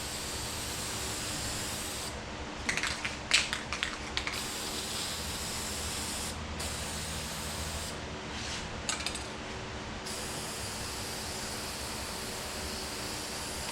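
Oil is sprayed onto a CF Moto Zforce air filter in several short, soft hissing bursts, clustered in the first half and again later, faint over a constant background hiss.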